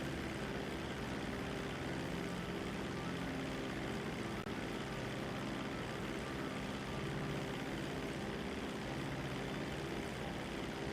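A propeller airplane flying in the video game GTA V, a constant, even engine and propeller drone at moderate level with no breaks.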